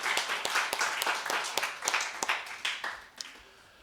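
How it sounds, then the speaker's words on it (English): A room full of people at a Sunday church service claps in applause, a dense run of sharp hand claps over a few seconds that thins out and fades at the end. "Let's give them all a round of applause again"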